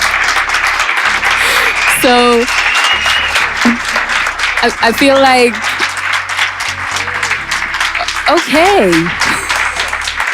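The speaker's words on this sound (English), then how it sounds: "Can we have a round of applause?" Loud, sustained applause from an audience at a talk event with a rapper, a continuous bed of clapping with voices talking and exclaiming on top of it throughout.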